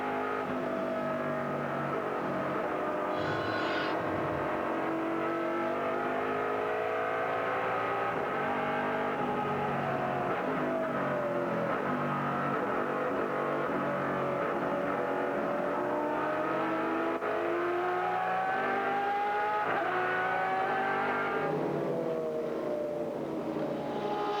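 A BMW-engined Grand American sports race car at speed during a 2003 Rolex Sports Car Series race, its engine note loud and sustained as it holds a high, slowly shifting pitch through upshifts and throttle changes.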